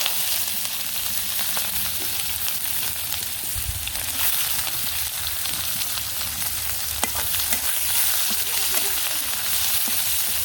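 Chopped onion frying in hot oil with cumin seeds and a blackened bay leaf, a steady close sizzle throughout with occasional light stirring clicks, no voices.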